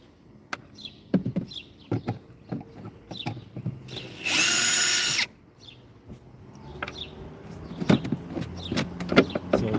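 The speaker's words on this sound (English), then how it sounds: "I might have to drill these screws out" Power drill whirs in a loud burst for about a second while drilling out gearbox screws, surrounded by clicks, knocks and handling of tools and parts.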